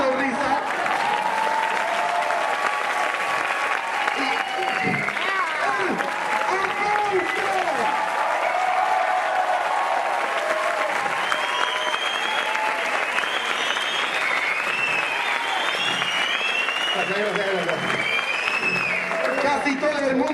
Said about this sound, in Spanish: Casi todo el mundo aplaudiendo como loco, menos tú.